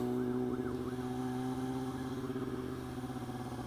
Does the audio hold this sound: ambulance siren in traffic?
yes